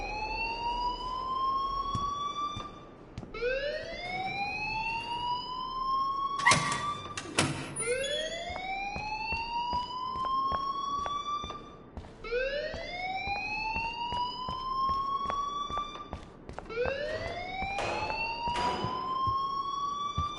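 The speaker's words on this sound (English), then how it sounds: "please turn off that alarm since that's your job" A wailing electronic alarm blares in Life is Strange, rising sweeps repeating every few seconds with a couple of sharp bangs mixed in, steady and loud throughout.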